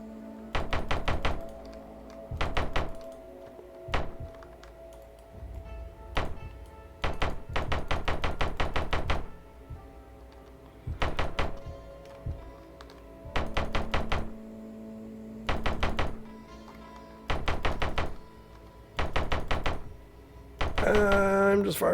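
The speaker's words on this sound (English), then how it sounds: "I'm just firing stones at this now." Heavy stones repeatedly striking and bringing down a tower in the medieval building game Medieval Engineers, a series of hard, knocking thuds arriving in clustered bursts with short gaps between them.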